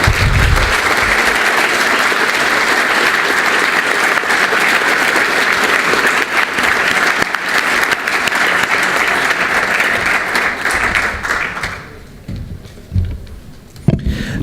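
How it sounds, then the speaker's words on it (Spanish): Sustained applause from a conference forum audience for the panelists, loud and dense for about twelve seconds before thinning into scattered claps and fading. "les quiero pedir un muy gran aplauso a cada uno de nuestros panelistas"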